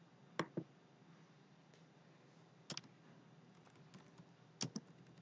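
A computer keyboard is being typed on in a quiet room, heard as three faint, separate clusters of sharp key clicks over a low background hum.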